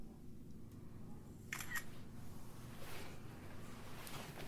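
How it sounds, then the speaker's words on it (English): A single-lens reflex camera's shutter fires once in a quiet room at a ghost hunt inside an old brewery, a brief close click over a low steady hum. "I was gonna take a photo."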